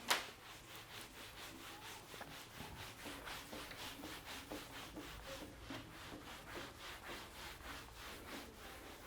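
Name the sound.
rubbing out writing on a board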